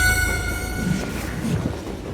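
A steam-era train in the Western shooter Call of Juarez: Gunslinger, its horn sounding at the start over a loud, steady rumble of rolling wheels and clattering cars.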